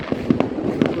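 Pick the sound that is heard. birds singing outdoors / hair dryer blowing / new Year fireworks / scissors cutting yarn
new Year fireworks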